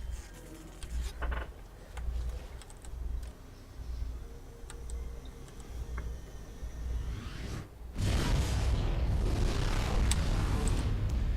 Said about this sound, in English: So I just exploded a bunch of gas or something and it blew open the store.